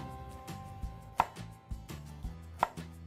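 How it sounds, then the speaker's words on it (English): Knife blade slicing through an onion on a cutting board, a series of crisp chops at an uneven pace with two sharper knocks standing out, close and clear, no talking. "So just slice in, and I'm adjusting the angle of the knife as I go up the side of the onion."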